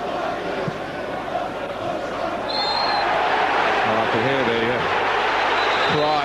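Dense, steady roar of a football stadium crowd at a Premier League match between Liverpool and Manchester United, swelling slightly midway, with a commentator talking over it and brief whistle-like tones.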